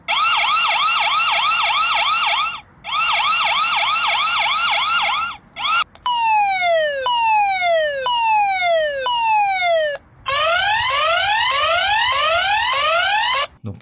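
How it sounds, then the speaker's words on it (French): Alarm siren tones from an Anran C3 wireless solar-powered security camera, loud and continuous: a rapid warbling wail, then repeated falling sweeps, then repeated rising sweeps, each pattern separated by brief gaps. "Donc sirène d'alarme,"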